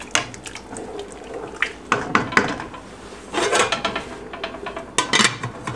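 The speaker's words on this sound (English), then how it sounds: "let's go ahead and put a lid on it." A pot lid handled and set onto a cooking pot of boiling kaniwa, quinoa and amaranth pilaf, giving several metallic clanks and rattles, close and fairly loud, mixed with faint watery sounds.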